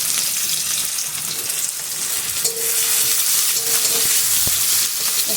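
Chopped onions and two green chillies fried with whole garam masala in caramelised sugar and oil, a loud steady sizzle with occasional stirring scrapes.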